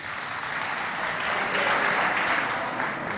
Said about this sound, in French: On les applaudit quand même, les amis